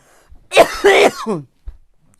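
A single harsh, raspy cough close to the microphone, followed by a short throaty after-sound and a faint breath.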